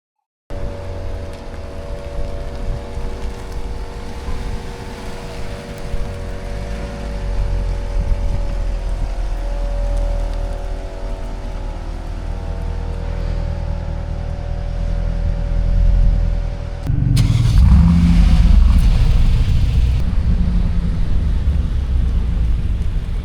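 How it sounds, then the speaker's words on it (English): Mercedes C63 out on a road test: a steady in-cabin engine and road drone with low rumble throughout, growing heavier and rougher near the end as tyre and road noise rise, with no voices. "So we just took C63 out on road test."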